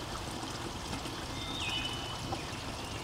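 Spring water from a mountain farm flows steadily as a soft, continuous trickling wash, close and even throughout, with a faint bird chirp briefly rising above it.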